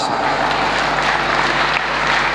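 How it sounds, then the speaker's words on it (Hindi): An audience at a Guru Purnima and Varshayog Kalash Sthapana religious ceremony claps loudly and continuously, a dense close wash of applause with no voices over it. "अभी तालियां रोकना, एक साथ बजानी पड़ेंगी।"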